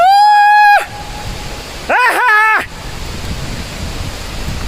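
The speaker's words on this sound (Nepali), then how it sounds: "फाइनली सुनसरी झरना" The Sunsari waterfall pours as a constant background rush of falling water. A loud, high, sustained vocal cry opens the scene and a short exclaiming voice breaks in partway through, with no clear speech.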